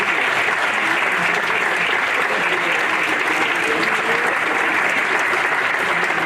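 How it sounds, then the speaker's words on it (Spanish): Steady, dense audience applause at a international seminar, loud and sustained throughout with no pauses, many hands clapping together from a large crowd. "yo quisiera pedirles a ustedes que les demos un abrazo como testimonio, un aplauso como testimonio de agradecimiento"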